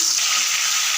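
Mustard seeds splutter and crackle steadily in hot oil, the start of a chicken gravy made without tomato or onion. The sizzle is loud, bright and unbroken throughout, with no talking over it.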